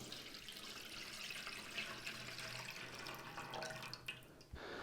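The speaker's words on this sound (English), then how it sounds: "add water to your container" Water pours into a shallow flower container, a faint steady splashing trickle that runs for several seconds before stopping abruptly near the end, with no talk.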